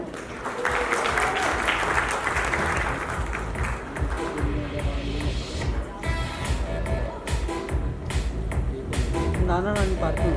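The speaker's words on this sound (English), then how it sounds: "Big round of applause, ladies and gentlemen, for Dr. Maria Zina Johnson." An audience at an awards ceremony for outstanding businesswomen applauds Dr. Maria Zina Johnson, a steady wash of clapping that runs throughout, overlaid with music and voices talking.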